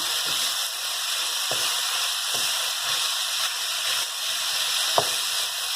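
Homemade bolognese tomato sauce with vegetables simmering in a pan, giving a steady close sizzle and bubbling hiss with a few brief spoon or pan knocks, no talking.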